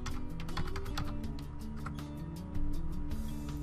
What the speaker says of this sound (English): You must hit enter on your keyboard to successfully enter the location or phone number.